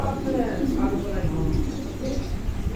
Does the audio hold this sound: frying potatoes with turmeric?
no